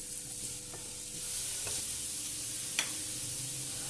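Boiled, shredded chicken cooks in a pan with a soft, fairly faint sizzle, broken by a few light clicks and scrapes as it is stirred.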